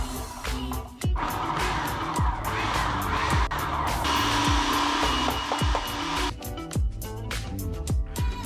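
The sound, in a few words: food processor grating attachment shredding cauliflower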